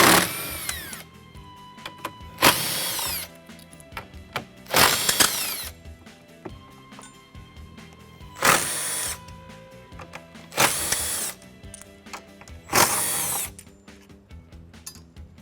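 A power tool works T50 bolts out of the hardtop brackets on a 2021+ four-door Ford Bronco, about six loud whirring bursts spaced a couple of seconds apart, with quieter clicks and handling noise between them.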